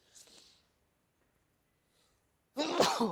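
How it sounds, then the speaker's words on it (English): One person sneezes: a faint breathy intake, a stretch of near silence, then a sudden loud sneeze burst at the end. "Oh God, I'm going to sneeze."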